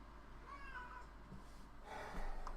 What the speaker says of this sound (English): Where are you, cat?